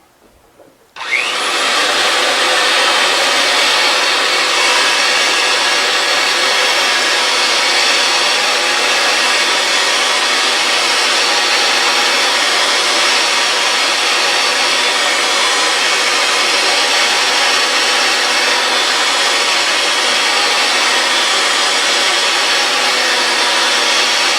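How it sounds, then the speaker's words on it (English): A RIDGID 300 threading machine runs while its cutter bites through pipe, starting abruptly and holding a loud, steady, broadband whirring grind close by for over twenty seconds without talk. "Now we're going to run the machine and apply a quarter turn of pressure per rotation of pipe until we cut through the end of the pipe."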